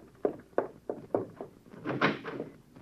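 A door in an old-time radio mystery drama is answered: several soft knocking thuds in a row, then a louder rattle of the door opening, close and moderately quiet, with no voices.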